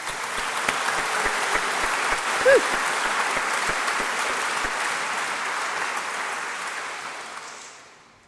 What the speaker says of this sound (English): the biggest round of applause tonight should absolutely be for you